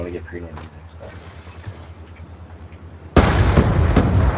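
A grenade blast in a competitive Raid match of a team shooter game, arriving as a sudden loud broadband burst near the end and then rumbling on. Players talk over game noise before it.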